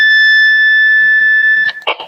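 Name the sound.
alarm mode tone of Quansheng UV-K5 handheld radio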